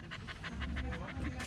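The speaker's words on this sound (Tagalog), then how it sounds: "Yan ang aso namin, Nisho." A dog pants in quick, rhythmic breaths close to the listener, about ten short puffs in steady succession against a low background hum.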